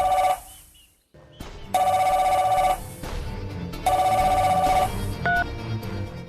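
A telephone rings in repeated bursts, loud and close, with short pauses between the rings.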